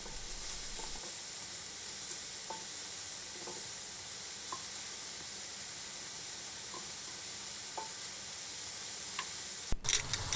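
Steady, loud sizzling of vegetables frying in hot oil in a frying pan, with an even hiss throughout and a few faint clicks.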